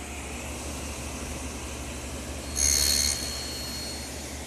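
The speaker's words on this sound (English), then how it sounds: "So I've tipped the saw to 45 degrees and located a guide block. And now I can run the rails through." A table saw tilted to 45 degrees cuts a miter in molded wooden rails, with a brief, bright whining screech of the blade in the wood rising over the saw's steady running hum, close by and with no talking.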